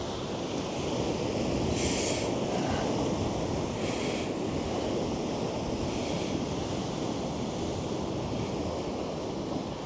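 Sea waves and surf washing onto a UK shore in roughly 2 to 3 foot conditions, a steady loud roar of breaking water mixed with wind buffeting the microphone, with no speech.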